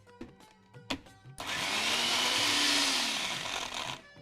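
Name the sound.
mixer grinder churning a paste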